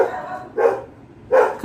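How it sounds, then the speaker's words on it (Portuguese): Dogs bark in two short loud bursts separated by a quiet pause, with a third bark starting at the end, fairly close and with nobody talking over them. "cachorros latindo, acontece."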